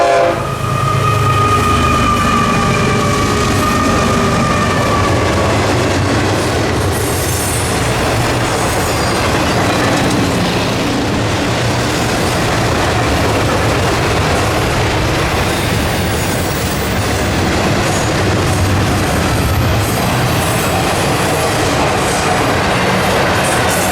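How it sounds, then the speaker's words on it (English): Florida East Coast Railway freight train tearing through town, loud and close, with continuous rumbling wheels, clickety-clack and squeal, and horn blasts near the start. "the FEC's hottest train came tearing through town"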